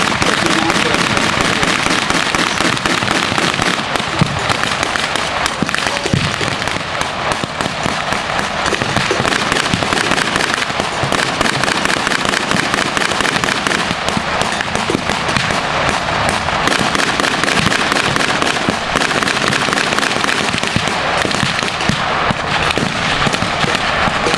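Dense machine gun and small arms fire rattles almost without pause through a WWII battle reenactment in a Rockford, Illinois field, loud and close, with sharp bursts and pops layered over a continuous roar.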